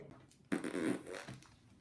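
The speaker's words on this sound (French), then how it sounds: "Qui a pété ici? Ça pue!" A single fart, a sudden loud, rough burst that starts abruptly and trails off with a fluttering tail over about a second, close and alone.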